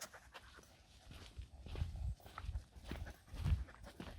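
Husky dogs panting heavily on a hike, quick rhythmic breaths close by mixed with padding footsteps on the trail.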